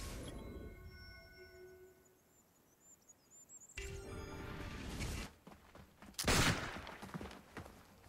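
A shooter's gunfire rings out during Assassin's Creed Brotherhood gameplay, as scattered sharp bursts and a denser volley under a muffled ambient game backdrop, moderately faint overall.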